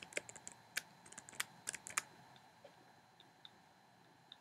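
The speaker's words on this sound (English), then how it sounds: "I'm writing in the very corner of the trackpad here." A finger taps and scrapes across the corner of a laptop trackpad while writing, giving quiet, irregular little clicks and ticks that cluster early and then thin out to sparse, faint taps.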